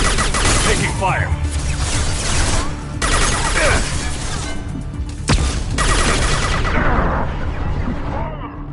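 Incoming gunfire in a sci-fi shooter game, loud bursts and sharp cracking shots in rapid clusters with crashing impacts, under intermittent voice chatter and a dense battle din.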